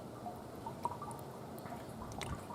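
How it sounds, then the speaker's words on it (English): Slow water drips from a barely open float valve on a slow-fill yard water system fed by a slow well, with soft scattered drops over a quiet liquid background. "so it's just a drip."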